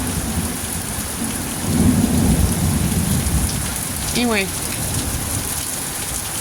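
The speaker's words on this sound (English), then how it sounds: "pretty good rain. What do you think?" Heavy rain pours steadily outdoors in bad weather, with rolling thunder swelling in the middle of the passage and a person speaking briefly over the downpour.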